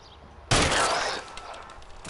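A single loud gunshot in the crime game L.A. Noire, a sudden close blast that rings out and decays over about a second, with no talk.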